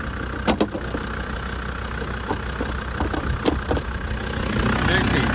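Land Rover Discovery engine idling in an open engine bay, a steady low mechanical hum with light ticking and occasional sharper clicks, close by, with a voice talking briefly over it.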